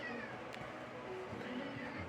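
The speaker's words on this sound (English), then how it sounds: "cat has arrived and he wants something to eat" A hungry cat meows for food indoors, a few clear, fairly close cries over a steady background hum, with no talking.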